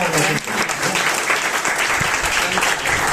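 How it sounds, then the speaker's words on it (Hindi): A crowd at a company's ninth-anniversary celebration bursts into loud, sustained applause, a dense wash of many hands clapping that holds steady throughout. "जोरदार तालियां इसके लिए हो जाएगी, जोरदार तो शानदार होनी चाहिए"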